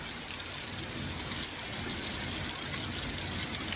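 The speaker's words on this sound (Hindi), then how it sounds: "और इतनी मोटी बारिश" Heavy, steady rain pours down in a hill farming area in the mountains, a dense, continuous hiss that stays loud and even throughout, with no voices.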